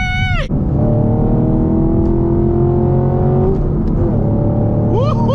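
A manual Chevrolet Camaro 2SS 1LE accelerates hard, its engine note climbing steadily in a loud continuous roar before dropping at a gear shift and rising again, with a brief voice at the very start and end.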